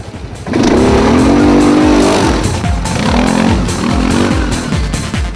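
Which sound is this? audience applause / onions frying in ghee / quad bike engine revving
quad bike engine revving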